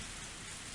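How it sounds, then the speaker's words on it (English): Heavy rain pours in a dense, steady hiss in a Higurashi game scene, loud and unbroken with no talking. "The rain's heavy today, too."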